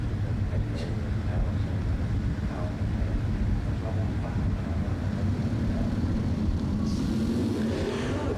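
A 1967 and a 1968 Camaro launch side by side at a bracket drag race, a steady loud engine roar filling the whole stretch with wind buffeting, rising to brighter revving near the end.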